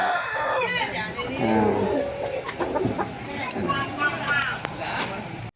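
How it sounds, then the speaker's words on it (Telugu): Roosters bred for cockfighting crow and cluck close by in overlapping calls while people talk in the background, in Rajahmundry. "పందానికి సిద్ధంగా ఉన్న కోళ్ళు"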